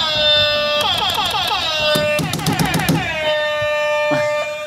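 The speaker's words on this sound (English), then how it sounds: "Hype button, the original hip-hop air horn button." A toy hip-hop hype button gives a loud, close air-horn blast, followed by a rapid sequence of short stuttering horn bursts, then a sustained horn tone.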